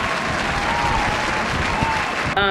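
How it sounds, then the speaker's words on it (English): Steady, dense applause, loud and close, runs continuously for a couple of seconds and cuts off abruptly at the end. "Hold for applause."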